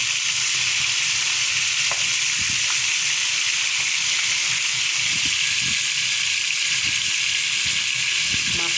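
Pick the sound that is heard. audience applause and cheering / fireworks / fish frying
fish frying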